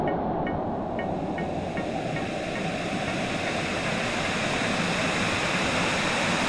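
A waterfall in Bonito, Brazil gives a continuous, loud, close roar of falling and rushing water that holds steady without a break.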